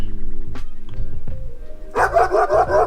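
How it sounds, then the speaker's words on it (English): Library sound effect of a dog barking: a few scattered yips early on, then a loud, dense burst of aggressive barking close up over the final second, with no voices. "dog bark."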